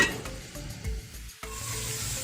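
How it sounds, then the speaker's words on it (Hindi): Two large chopped onions fry in two big spoons of ghee, giving a crackling sizzle with spoon scrapes and stirring bumps, close and moderately loud with a brief lull midway. "2 बड़े साइज़ की कटी हुई प्याज में मैंने 2 बड़े चम्मच घी के शामिल किए। अब हम प्याज को अच्छे से लाइट ब्राउन करेंगे।"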